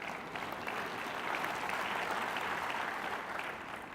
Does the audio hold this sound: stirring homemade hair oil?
no